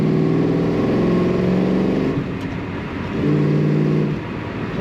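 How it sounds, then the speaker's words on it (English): A 1972 Chevrolet Chevelle Malibu convertible with a manual gearbox, its engine revving hard in a loud, close, rising roar that eases off, then surges again near the end. "Accidental burnout, honestly, right there."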